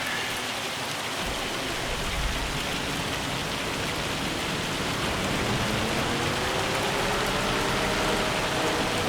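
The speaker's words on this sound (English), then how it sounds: "It's raining like cats and dogs." Heavy rain falls steadily on a campsite, a dense, constant hiss of downpour with no breaks, loud and close for the whole stretch.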